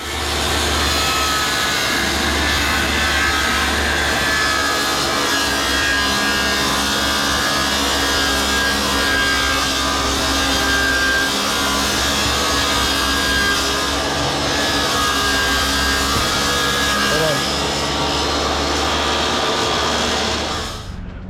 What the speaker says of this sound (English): we got it all cut, ran it down table saw